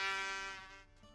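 A bee in a cut-paper animation gives a steady, close, bright buzz that holds for most of a second, then drops away abruptly.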